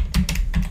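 Typing on a computer keyboard, a quick run of about five close, crisp key clicks in a steady, brisk rhythm with no talking.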